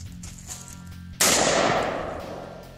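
A single loud, sharp 6.5 Grendel rifle shot fired into a level 3 bulletproof vest cracks out after a quiet outdoor stretch, its blast trailing off into a long fading echo.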